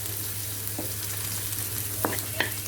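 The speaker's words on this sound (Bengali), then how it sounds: "আমরা তেলের মধ্যে ফোড়নটা দিয়ে দিলাম" Whole tempering spices frying in a little hot oil, a steady soft sizzle under a low background hum, with a couple of brief utensil taps near the end.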